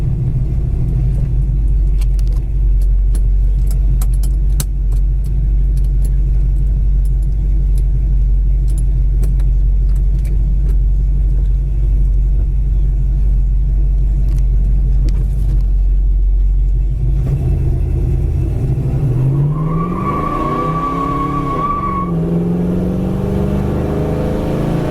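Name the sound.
1971 Dodge Dart Hemi being driven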